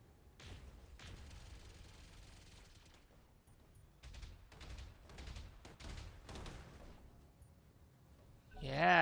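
Turrets firing during a Battletech mission: several bursts of rapid, muffled fire at moderate loudness, separated by brief lulls, ending in a louder rumbling surge.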